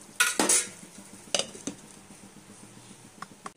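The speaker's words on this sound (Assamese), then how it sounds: "অলপ ভজা হৈ লওক" Tomato paste frying in a pan for broiler chicken curry, a soft low sizzle under a few sharp clanks and scrapes of a spoon against the pan, close and without talk.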